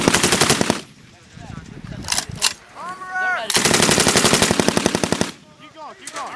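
A next-gen 6.8mm machine gun firing full-automatic on a range: two long, rapid, loud bursts and a shorter one, with brief bursts and clanking in the gaps and voices faintly heard near the end.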